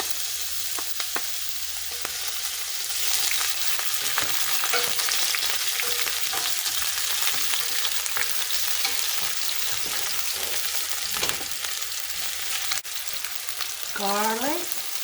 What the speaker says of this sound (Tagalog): Let's saute first